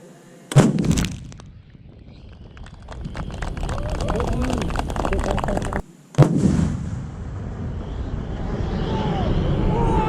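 A 155 mm army cannon firing during an artillery training exercise in Aceh, two loud, close blasts a few seconds apart, each a sharp boom followed by a rolling rumble and lingering noise, with people talking in between.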